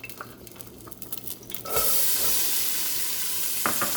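Hot oil in a pan for homemade chili beans bursts into a loud, steady sizzle that carries on to the end, after a few seconds of quieter stirring and clinks.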